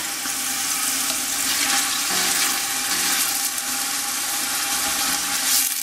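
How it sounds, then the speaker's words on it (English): Vegetables for stuffed pepper soup sauté in a hot pot, giving a loud, steady sizzle and hiss that runs unbroken throughout, close and with no voices. "So it's cooking in there, just sauteing a little bit."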